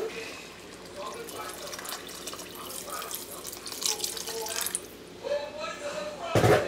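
Water running from a tap into a cooking pot, a splashing, trickling pour at moderate volume that grows and ends with a short burst, with a person talking over it.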